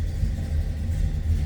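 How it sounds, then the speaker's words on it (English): A 1984 Chevrolet Caprice Classic sedan's 350 small-block V8 with an Edelbrock four-barrel carburetor idles with a deep, steady low rumble, heard close and alone. "on top of that 350 small block Chev, and listen, there's a rumble"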